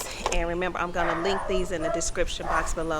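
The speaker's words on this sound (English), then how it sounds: "I do apologize about the barking dog." A dog barks repeatedly in quick yips and bow-wows outdoors in a garden where wooden trellises are being installed and climbing roses planted, loud and continuous beneath someone talking.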